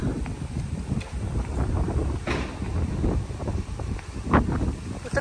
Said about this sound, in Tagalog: Sarap ng hangin. Ang lamig